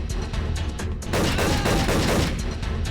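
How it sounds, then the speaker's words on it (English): Gunfire crackles in a rapid fusillade in the stealth game Hitman Contracts, fired at a sword-wielding target. The shots come as a dense, loud volley, then blur into a continuous roar of overlapping reports with a low rumble underneath. "the first floor guards definitely heard all those gunshots"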